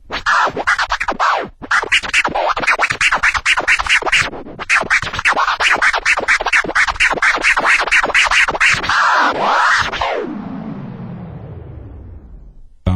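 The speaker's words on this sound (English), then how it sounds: "So that's a 2-click flare" Rapid DJ turntable scratching made up of repeated two-click flare scratches, with dense rhythmic back-and-forth strokes that run loud and continuous for about ten seconds before ending in a fading tail.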